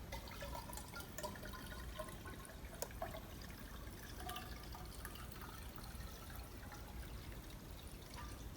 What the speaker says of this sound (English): So I'm going to pour it in our graduated cylinder